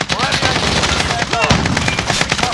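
Rapid, near-continuous automatic gunfire in a Modern Warfare multiplayer match, loud and close, with sharp overlapping shots and a voice talking over the battle.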